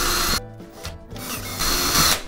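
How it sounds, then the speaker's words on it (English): Power drill boring a hole into a wall for an IKEA toilet roll holder: close, loud whirring bursts that stop and restart several times, with grinding as the bit bites in. "I'm going to properly drill a hole here"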